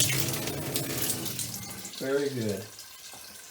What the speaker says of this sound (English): which means it is hot water coming out of there.